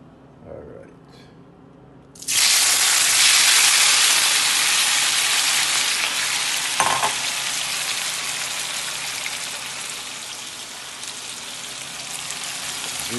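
Saltfish frying with scotch bonnet pepper, onion and tomato: after two seconds of quiet with a faint voice, a loud, steady sizzle erupts and continues to the end, easing slightly, with one brief clatter partway through.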